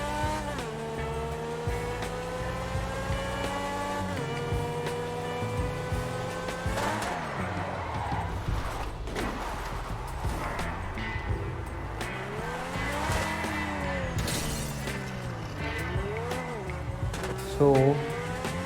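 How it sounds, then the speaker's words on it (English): A spawned car in the GTA V video game drives with a revving engine that rises and falls through gear changes, broken by repeated tire squeals, loud and continuous for the whole stretch. "You can see car is spawned."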